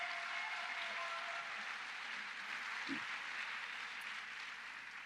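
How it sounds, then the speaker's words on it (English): A crowd at a women's sports event honoring a silver medal podium finish in Tokyo breaks into steady applause that fills the whole stretch with dense, even clapping at moderate loudness, with no voices on top. "we just give her a round of applause"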